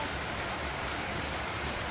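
Heavy rain falling in a Bangladeshi village, a dense, even hiss of drops that fills the whole stretch, close and steady, with no voices.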